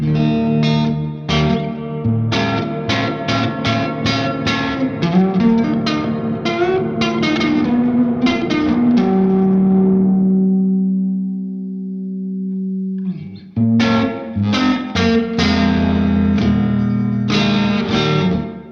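An electric guitar rings out with chords and picked notes washed in reverb and light drive, sustaining a long tail before strumming resumes.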